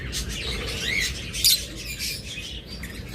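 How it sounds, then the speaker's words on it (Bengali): Lutino opaline pet birds, a top-marked breeding pair, give a few bright chirps and one sharp squawk over a steady, noisy background, with no talk. "এটাও কিন্তু লুটিনো সিসার অপালাইন, একদম টপ মার্কিংয়ের পাখি"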